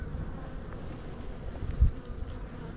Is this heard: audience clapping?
no